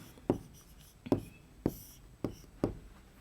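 A pen or pencil writes a Hindi word by hand, five distinct strokes tapping and scratching on paper at a steady rhythm, close and quiet with no talk.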